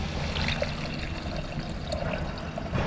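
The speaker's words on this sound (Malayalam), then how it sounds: "അപ്പോൾ ഞങ്ങൾ പുളിവെള്ളം ഒഴിക്കാൻ വേണ്ടി പോവാണ്" Tamarind water is poured into a pan for fish curry, a steady, soft trickling and splashing stream that runs the whole time at low volume, with no voices over it.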